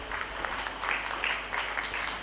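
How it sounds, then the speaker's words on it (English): Audience applause at the Miss World Bangladesh 2026 launch event, a steady, dense patter of clapping from a crowd lasting the whole stretch at moderate distance, with no voices. "Please give a warm round of applause for our partners"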